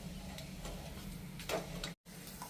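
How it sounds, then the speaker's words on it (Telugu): Peanuts frying in a pan for karam boondi give a faint, steady sizzle with light ticking crackles, broken once by a brief dropout near the end. "వేరుశనగపప్పు కూడా మంచి కలర్లో వచ్చేటట్టు వేయించేసానండి"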